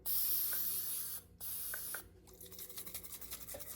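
Carburetor cleaner hisses out of an aerosol can in two loud bursts separated by a short break, followed by softer, uneven sputtering spray.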